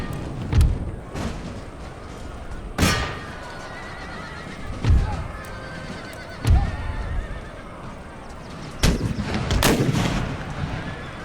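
Cannon fire in the Empire: Total War battle game, several booming artillery shots at irregular intervals of one to two seconds, set against a constant battlefield din with horse whinnies and hoofbeats.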